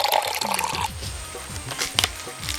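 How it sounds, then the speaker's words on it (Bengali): Water is poured into a cup or glass indoors, a short liquid splash and trickle close by, with faint dripping, lasting only a couple of seconds and heard alone without speech. "জল দাঁড়া, আমি দিচ্ছি।"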